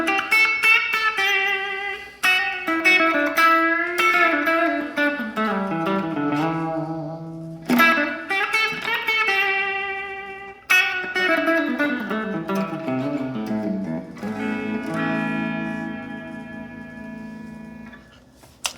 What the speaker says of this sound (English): Maybe switch to a clean sound so you get more of the single coil effect.